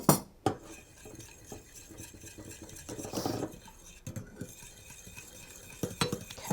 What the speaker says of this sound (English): so we're going to keep stirring this until you see that it is thickening.